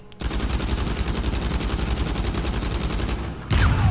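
Rapid automatic gunfire in Fortnite, a loud, steady stream of evenly spaced shots lasting several seconds, ending with a heavier burst; no talking over it.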